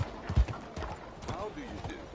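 A horse's hooves clip-clopping at a steady walking rhythm in the Red Dead Redemption 2 video game, close and moderately loud.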